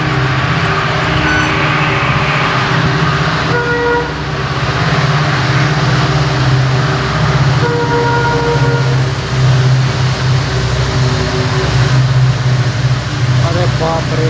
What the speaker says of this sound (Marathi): ट्रेन आली आता.